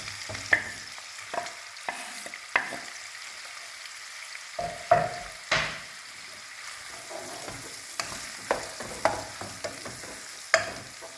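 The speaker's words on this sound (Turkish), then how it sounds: "Soğanı ilave ediyoruz arkasından." Onion frying in oil in a pot for Uzbek pilaf, a faint steady sizzle broken by frequent sharp spoon scrapes and clanks against the metal, close by, with no voices.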